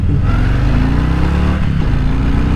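A 2022 Harley-Davidson Fat Boy motorcycle engine roars loud and close, a steady heavy drone with rising pitch as it pulls hard from about 10 mph.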